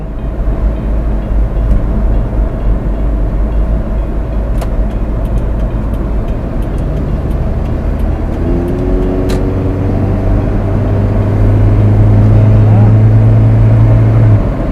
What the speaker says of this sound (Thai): เครื่องยนต์ก็ ถือว่ายังเฟิร์มนะครับ แน่น